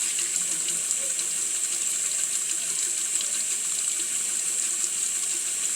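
Tap water runs steadily into a sink while hands are wetted during a face-washing routine, a continuous close hiss with no talk.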